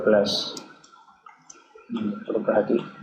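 Keys on a computer keyboard are typed to enter a date in a hospital pharmacy application, producing light clicking taps under and between stretches of talking.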